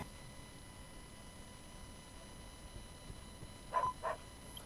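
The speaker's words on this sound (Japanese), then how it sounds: "ワンワン。" Two short, faint dog barks from Dragon Quest X come in quick succession near the end, set against a quiet, humming background.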